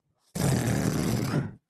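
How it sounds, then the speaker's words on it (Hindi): One long, rough, rumbling snore, loud and close, starting abruptly and lasting just over a second before cutting off into silence. "इनका खर्राटा सुन के कुकुर बिलारी भाग जाते हुए हैं।"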